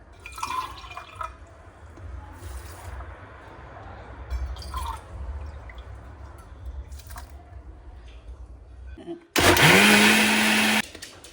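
A mixer grinder blends coconut and cooked rice with water. Quieter clinks and watery sloshing come first, then a loud, steady motor whir starts abruptly near the end and runs for under two seconds.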